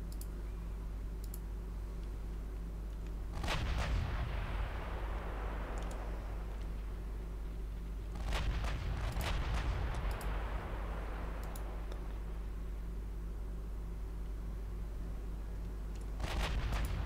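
Warship guns firing in the naval game Ultimate Admiral Dreadnoughts: three separate booming salvos spaced several seconds apart, each a sharp crack fading into a rumbling tail, over a steady low engine drone with a few faint clicks.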